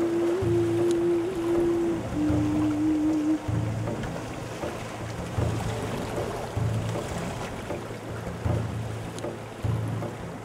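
A boat worked by boatmen travels upriver toward Pagsanjan Falls, with a low steady rumble of water and hull, a sustained tonal hum early on, and periodic thumps and splashes.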